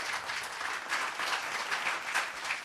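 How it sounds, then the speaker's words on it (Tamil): Faint, distant applause from an audience at a school speaking event, a soft continuous patter of many hands with no voices over it. "ஒரு உற்சாகமான கைத்தட்டல் கொடுக்கலாம்"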